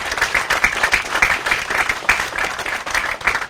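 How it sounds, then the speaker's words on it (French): A crowd applauds the elders with sustained, even clapping from many hands, moderately loud and filling the whole stretch without speech. "Je voudrais qu'on applaudisse pour ces sages-là"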